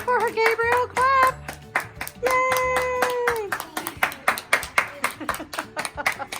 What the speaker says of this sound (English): Clap for her, Gabriel.